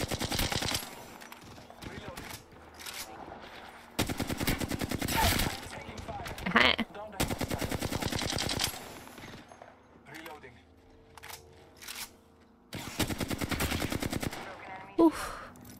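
Bursts of automatic gunfire in the battle royale game Apex Legends, loud rapid volleys in several separated bursts with gaps between, a player talking over parts of it.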